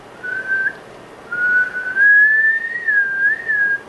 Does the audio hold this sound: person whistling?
yes